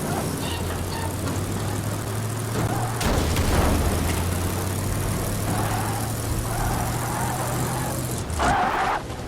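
Car engine in Evil Dead the Game, a steady low drone running under the whole stretch, with a rougher rev-up partway through and bursts of game effects near the end.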